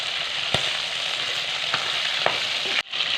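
Ritha fish frying in hot oil in a pan, a steady loud sizzle with a few sharp crackles and pops, cut off briefly near the end, with no talking.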